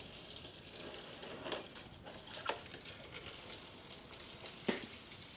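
Engine oil drains from the sump of a 2013 Mini Cooper D 1.6 diesel as a quiet, steady trickling pour, with a few faint knocks and splashes.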